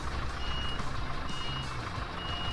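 Steady reversing beeps from a truck in the Farming Simulator 19 video game, repeating at an even pace over a dense, constant engine and ambient rumble, with no talking.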